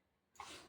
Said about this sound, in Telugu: దగ్గుతుంది బాగా